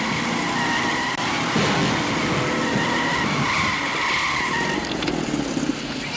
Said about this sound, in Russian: Трогайте живо, жмите на газ.